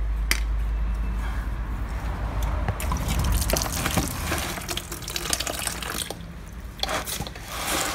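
Thick, degraded engine oil drips and trickles from a hole underneath a car, giving close, irregular dripping and splattering with a steady low background noise, no talk.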